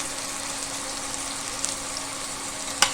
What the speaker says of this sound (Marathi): इथं कांदा मी भाजायला टाकलेला आहे